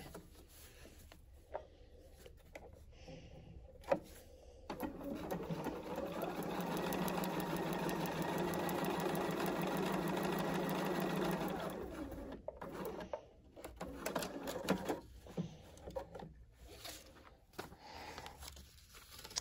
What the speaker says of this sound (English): sew down this line in the template directly between the number 4 section and the number 5 section